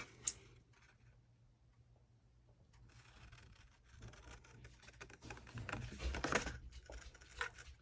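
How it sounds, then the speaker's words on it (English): Scissors cut around a paper piece for a junk journal page, giving soft, close scratchy snips and paper rustles. They are faint at first and grow busier and louder toward the end. "So I'm going to take my scissors and cut around."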